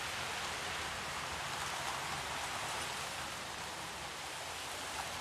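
Steady, dense rain in the video game Jurassic World Evolution, a constant hissing downpour that stays even and unbroken throughout, with no voices.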